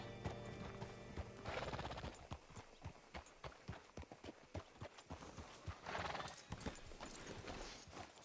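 A horse's hooves clip-clop in a steady rhythm, close and clear, with a loud whinny near the start and another snort or neigh later, in the Red Dead Redemption 2 video game.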